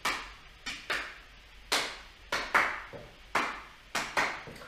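Samba rhythm clapped by hand in a beginner Latin dance class, sharp claps in an uneven repeating pattern, close and fairly quiet, with no talking.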